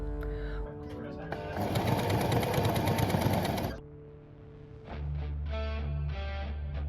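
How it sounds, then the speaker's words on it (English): A sewing machine stitching close to the edge of a fabric hem on a tie-on costume skirt, a loud steady mechanical whir for about two seconds, with a speaking voice before and after it. "Then I'm going to sew as close to the edge as possible."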